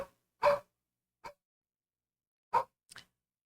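Dogs bark in a few short, separate bursts with quiet gaps between them, fairly close and alone with no talking.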